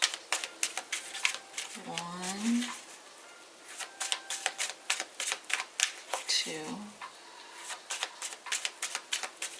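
Rapid papery riffling of tarot cards being shuffled in several bursts, close and crisp, with a voice briefly counting between shuffles.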